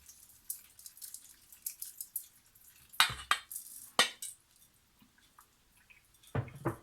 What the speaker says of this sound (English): So we let it through the sieve. We let the water go out.